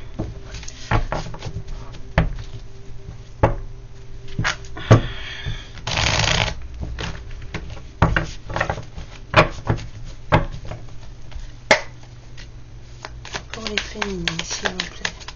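Cards shuffled for a card reading, several riffles and soft flicks close by, with a longer dense shuffle in the middle and a voice speaking over parts of it.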